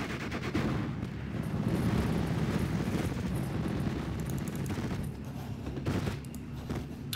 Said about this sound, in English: we've got a gun battle going on both sides